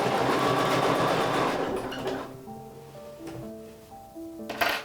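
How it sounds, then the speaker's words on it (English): A sewing machine stitches binding onto a quilt with a scant quarter-inch seam: a loud, steady close-up motor whir with rapid needle chatter for about two seconds, then slowing and stopping into quieter clicks and handling. "we're going to stitch this on"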